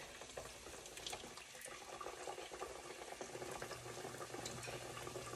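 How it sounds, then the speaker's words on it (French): Codfish patties frying in hot oil give a steady, dense sizzle that stays even and unbroken from start to finish, heard up close and fairly quiet. "on va le mettre dans l'huile chaude"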